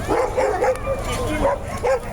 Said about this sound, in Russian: вот у нас собака перед вами